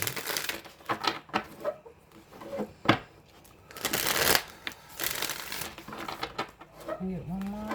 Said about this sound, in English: Give it a few more shuffles